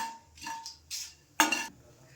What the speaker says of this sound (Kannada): ಇವನ್ನೆಲ್ಲ ಸರಿಯಾಗಿ ಒಂದ್ಸತಿ ಹುರ್ಕೊಳ್ಳೋಣ